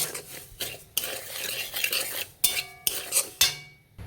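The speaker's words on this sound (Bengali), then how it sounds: "ঘন ঘন খুন্তি দিয়ে নেড়ে ভালো করে নেড়ে নিতে হবে" A metal spatula scrapes and stirs dry semolina in a pan, with repeated rasping strokes and sharper clinks, close and fairly loud.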